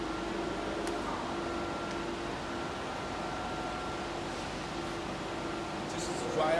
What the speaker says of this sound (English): The cooling fan.